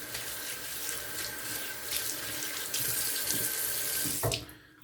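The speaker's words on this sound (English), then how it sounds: "I'm just gonna rinse it off. Rinse off the threads and let that dry out for tonight's shave." Tap water runs steadily into a sink, rinsing the threads of a shaving soap container, a close, constant splashing rush that cuts off abruptly near the end, leaving quiet.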